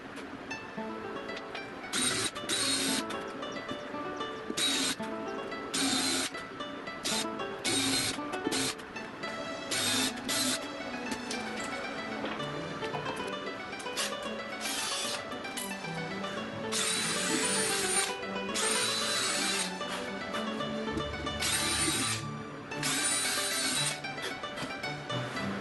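A drill bores a screw shank hole while building a sewing table elevator prototype, in short whirring bursts separated by pauses over a steady background hum, close and fairly loud.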